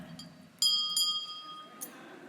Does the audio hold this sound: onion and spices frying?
no